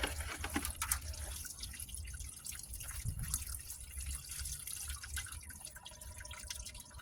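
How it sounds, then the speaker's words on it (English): Coolant draining from a disconnected heater line on a Buick into a catch tank below, a steady close trickle and patter of liquid running continuously with no talking. "Now we're draining down into our tank down there."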